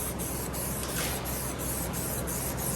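An aerosol can of spray paint hisses continuously onto a Yamaha Blaster ATV part, a loud, steady, close spray with faint rhythmic pulsing throughout.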